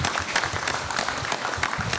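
Audience applause at the opening of a congress session, a dense steady wash of many hands clapping throughout, fairly close and full, with no talk over it.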